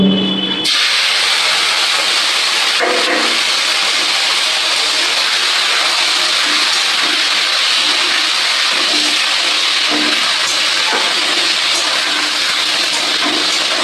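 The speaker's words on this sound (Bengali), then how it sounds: "চিংড়ি মাছটা আমি ভেজে নেব ফোড়নের সঙ্গে" Prawns rubbed with salt and turmeric hit hot oil with tempering spices, setting off a loud, steady sizzling hiss that starts abruptly and holds throughout, with a few faint clinks underneath.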